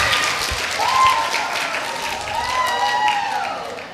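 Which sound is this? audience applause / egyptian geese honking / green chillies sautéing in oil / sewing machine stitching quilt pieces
audience applause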